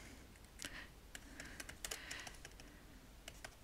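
Rapid, irregular clicks of typing on a computer keyboard while entering text into a table cell, close and fairly quiet, with short bursts and pauses and no talking.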